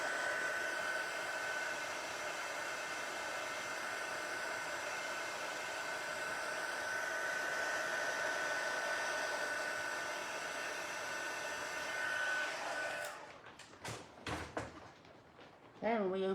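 A heat tool blows hot air steadily onto a material until it turns glossy, a continuous whirring hiss with a faint tonal whine that cuts off near the end, followed by a few knocks and handling sounds.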